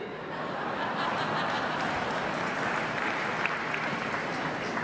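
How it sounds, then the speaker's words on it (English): Audience applause with scattered laughter from a crowd at a speaking event, steady dense clapping filling the whole stretch at moderate loudness. "Notice how it's all the women laughing and clapping."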